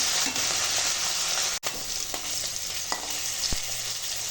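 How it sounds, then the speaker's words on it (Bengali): Pieces of hilsa fish frying in hot oil give a steady, close sizzle with a few soft knocks as they are turned, and no one speaks. "মাছগুলো উল্টে পাল্টে ভালো করে ভেজে নেবো এগুলো ভাজা খাওয়া হবে"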